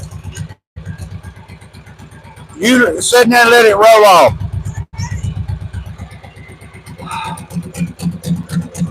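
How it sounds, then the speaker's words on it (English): A tractor engine idling and chugging in reverse while moving a log at a sawmill, a close, steady low rumble throughout, broken by a loud stretch of talk and a brief dropout. "Now back my tractor."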